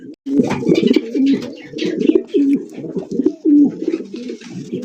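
Racer pigeons cooing in a close, loud series of rolling coos with brief pauses between them, heard alone without talk.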